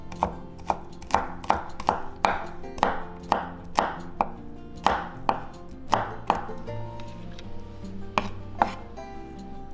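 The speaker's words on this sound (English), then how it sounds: "Take all the skins away, and we just mince." Knife mincing peeled ginger on a cutting board, about fourteen crisp, evenly spaced chops at a steady rhythm that slows near the end, loud and close, with no talk.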